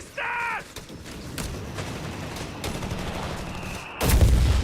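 MG42 machine gun fire in Company of Heroes 3, heard as a sustained stream of distant, rapid bursts under busy battlefield noise, with a louder blast near the end.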